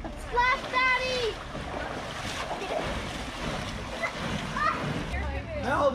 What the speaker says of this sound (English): Splash, Daddy!